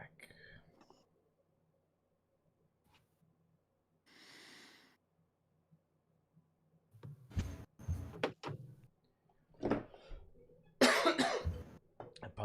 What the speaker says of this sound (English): I apologize for the coughing tonight,